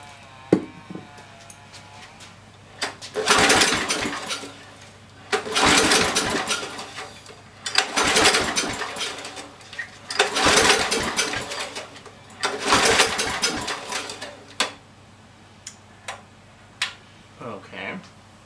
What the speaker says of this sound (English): Why don't I get a drill and we will see if it does make power first.